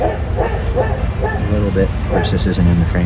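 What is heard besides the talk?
dog barking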